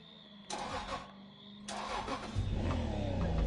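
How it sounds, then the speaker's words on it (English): A car engine cranks in short bursts, then catches and settles into a steady running rumble, close by and fairly quiet with no voices. "My car's not starting."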